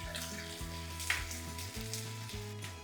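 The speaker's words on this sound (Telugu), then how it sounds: "సో కొంచెం అల్లం వెల్లుల్లి పేస్ట్ వేసి కలిపేయండి" Capsicum and onion fry with ginger garlic paste in a kadai, a soft, steady sizzle under a rhythmic low musical background, with one brief clink of a utensil stirring.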